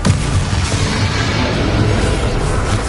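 Confringo blasting spell exploding in Hogwarts Legacy, a loud, dense rumbling boom that fills the whole moment with continuous low roar and crackle.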